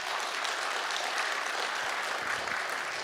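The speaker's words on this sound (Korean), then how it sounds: "박수 한번 쳐봐요." A congregation at a New Year thanksgiving church service claps in a soft, even wash of applause that holds steady from start to finish, fairly distant and without speech.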